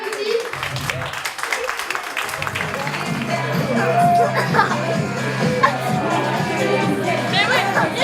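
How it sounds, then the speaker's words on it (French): An audience applauds participants at a youth gathering, with clapping and crowd chatter building into a dense, sustained applause as voices carry over it. "On les applaudit."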